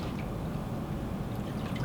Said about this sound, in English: I do my little water sound 3 times.